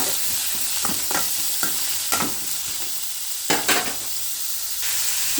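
Radish pieces sauté in a hot tempering in a pan, giving a constant close sizzle with repeated spatula scrapes and stirring clacks at irregular intervals.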